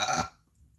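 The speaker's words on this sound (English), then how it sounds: "Confirmation with the belch." A single loud belch bursts out for about a quarter second, then cuts off into near silence, with no talk around it.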